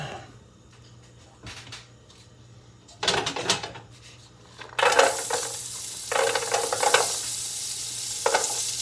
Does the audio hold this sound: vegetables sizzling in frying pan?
yes